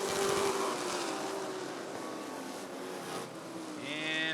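A pack of sportsman race cars roars around Rockford Speedway after the green flag, a loud, steady engine drone that swells and shifts in pitch as cars pass.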